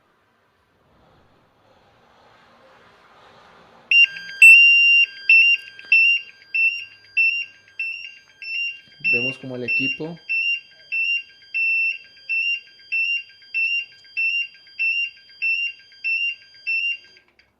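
A portable gas detector goes into alarm after being set off by exhaled breath, sounding a loud, steady run of rapid repeating electronic beeps that continues to the end, with a short burst of speech partway through.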